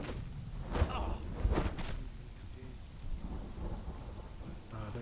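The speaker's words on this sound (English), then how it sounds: "I think it's just a storm" Thunderstorm in the video game Conan Exiles: steady rain hiss with two loud rolling thunder cracks early on, then continuing downpour and low rumble.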